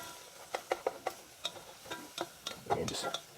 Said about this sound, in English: we just want to get our garlic softened